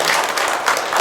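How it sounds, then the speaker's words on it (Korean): A church congregation at an Easter praise and thanksgiving service claps in a dense, continuous burst of applause, close and lively. "우리 여기 모이신 분들 위해서 우리 박수 한 번 더 치시겠습니다."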